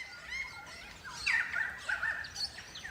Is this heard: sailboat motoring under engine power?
no